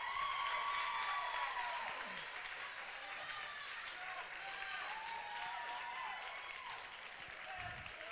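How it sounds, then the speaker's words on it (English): Crowd noise fills a girls' district tournament basketball game between Flippin and Eureka Springs, a sustained roar of cheering and clapping with a play-by-play voice talking over it. "this Flippin crowd's making some noise"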